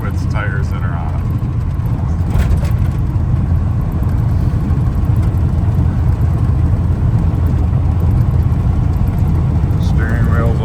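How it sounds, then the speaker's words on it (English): A 1987 GMC K1500 pickup truck driving, its engine and road noise forming a loud, steady low rumble from inside the cab throughout, with brief faint higher sounds now and then. "Pretty good driving truck."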